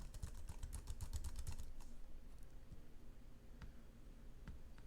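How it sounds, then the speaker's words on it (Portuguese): Quick, rapid clicks from a computer keyboard fill the first two seconds, then thin out to a few scattered taps over a faint background hiss. "eu posso simplesmente clicar em qualquer local da área de trabalho e começar a digitar"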